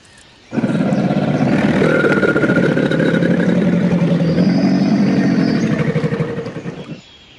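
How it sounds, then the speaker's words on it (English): A giant theropod dinosaur, a Giganotosaurus, lets out a long, loud, rumbling roar lasting about six seconds, swelling in quickly and fading out near the end, with no talk over it. "In the distance, she hears a roar of a giant theropod carnivore."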